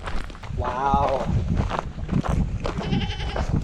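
Goats bleat along a mountain canyon trail at Jebel Shams, Oman, with two clear wavering bleats over steady talking and footsteps.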